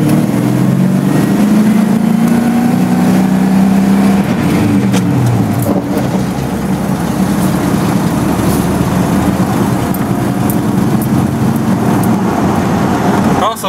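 A car engine running steadily after a gas tank replacement, a loud continuous rumble with a low droning tone that shifts as it revs, heard close up from inside the car with no clear talk.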